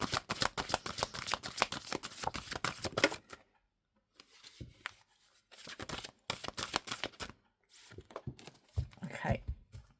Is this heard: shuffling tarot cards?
yes